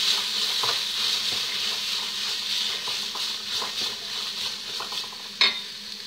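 Soaked white beans are stirred in a pot, a steady hiss and soft scraping with faint wet clicks, and one louder knock of the utensil near the end.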